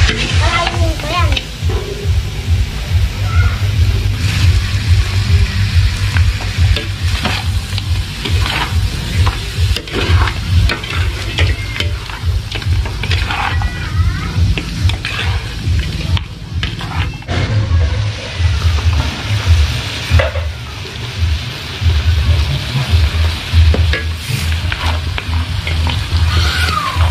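Potatoes and carrots frying in a pan while being stirred: a continuous sizzle broken by repeated scraping strokes of the utensil, close and fairly loud, with a few brief voices in the background.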